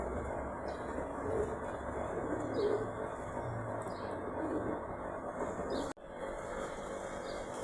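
Thor-line pigeons, a mated male and female pair, cooing softly in steady low murmurs over a continuous background hum, with no talking.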